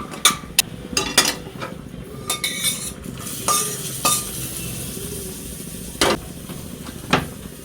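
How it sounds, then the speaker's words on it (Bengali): Spinach simmering in a pan as lentil badi are dropped in, with a low bubbling sizzle broken by sharp utensil clinks and scraping stirs at irregular intervals, close up and with no talking. "এখানে পালং শাকটা ফুটছে, এর মধ্যে দিয়ে দেবো বড়িগুলো ডাইরেক্ট।"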